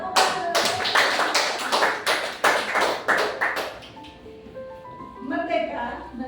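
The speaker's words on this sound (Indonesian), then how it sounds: "Ya, tepuk tangan." A group claps hands in steady rhythmic bursts during a school positive-culture session, about a dozen sharp claps in a patterned sequence, followed by a voice speaking afterward.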